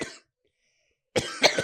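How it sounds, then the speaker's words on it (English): A person coughs close to a microphone: a short cough, a brief silence, then a stronger double cough. "I love how y'all cough into the microphone"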